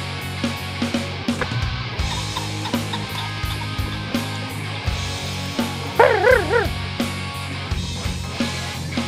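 A gun dog on a pheasant shoot along a hedgerow gives short yips and whimpers with some barks, close by over steady outdoor background noise.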